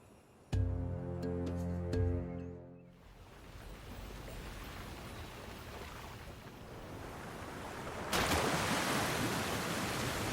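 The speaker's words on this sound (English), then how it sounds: "Water rises. Create a waterfall." Water rising and a waterfall forming in Genshin Impact, with a tonal chime at first, then a steady rushing wash that swells louder near the end.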